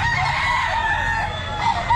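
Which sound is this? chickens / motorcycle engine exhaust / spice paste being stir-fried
chickens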